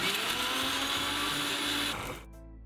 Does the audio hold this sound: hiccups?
no